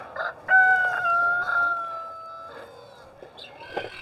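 Leghorn and other egg-laying hens on pasture, with a rooster's crow and hen clucks rising in a few bursts over about four seconds, fairly close and loud.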